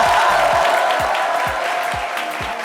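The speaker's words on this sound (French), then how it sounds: "Allez, on applaudit pour moi très très fort" Dense, loud applause from a studio audience on a French midday show, a steady wash of many hands clapping that slowly eases off, with a few rhythmic beats underneath.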